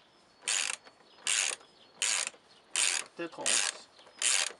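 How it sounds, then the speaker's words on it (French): A ratchet wrench tightens the oil filter housing on an Opel Corsa 1.3 CDTI, clicking in six short, crisp bursts at a steady pace. A single word is spoken between strokes. "Puis on termine avec la clé à cliquer."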